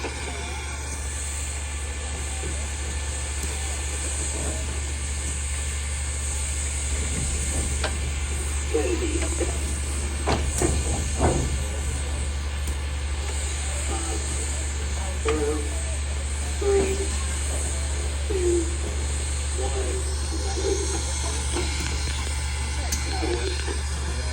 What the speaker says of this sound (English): everybody watch very, very carefully as we spot the locomotive